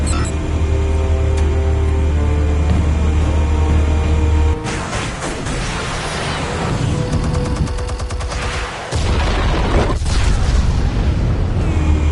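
Explosives going off in the Batman Telltale game, heard as loud, dense booming and crackling blasts with a steady low rumble that shifts partway through, then a short drop before the noise surges back.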